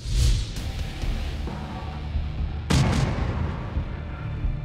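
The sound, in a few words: artillery shelling at Yeonpyeong Island, 2010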